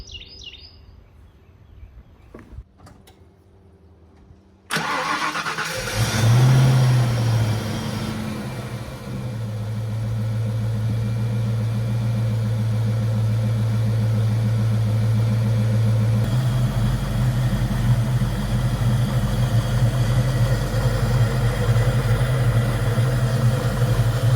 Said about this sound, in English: Overall, the engine runs good, sounds healthy.